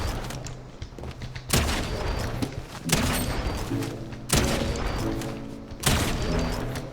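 Gunfire from a video game aim-training map, with repeated loud booming shots in a steady rhythm roughly every one and a half seconds, each followed by a short rumbling tail.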